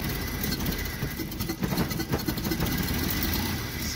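A rebuilt Jeep XJ engine runs in a steady, slightly uneven rumble heard up close, with a small stumble midway and faint background noise but no voices.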